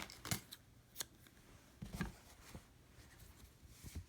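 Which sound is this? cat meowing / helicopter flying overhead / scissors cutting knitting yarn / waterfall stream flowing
scissors cutting knitting yarn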